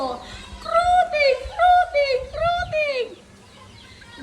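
A neighbour's hen clucks in a rapid run of bright, stacked calls for about three seconds, close and fairly loud, then trails off into quiet.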